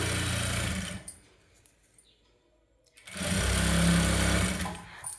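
A normal domestic sewing machine stitches a saree fall in two steady, whirring runs, about a second and then two seconds long, separated by a near-silent pause.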